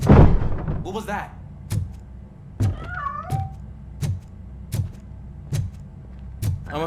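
A cat meows twice in RoboCop Rogue City, short rising and falling cries heard near the start and again a couple of seconds later, amid regular heavy thudding footsteps that continue steadily throughout.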